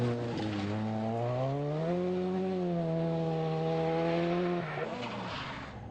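A Ford Sierra rally car engine revs and holds a loud, buzzing, rising-then-steady drone for several seconds before dropping off as the car passes.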